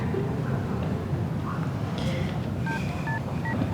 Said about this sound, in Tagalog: O yan, tinatawagan ko na.